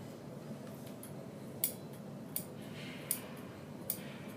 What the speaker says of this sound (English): pull it up just enough where you can get your scissors started to cut